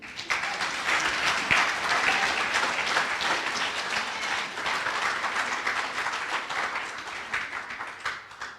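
A church congregation applauds together in sustained, dense clapping that holds steady and fairly loud for the whole stretch, fading slightly toward the end.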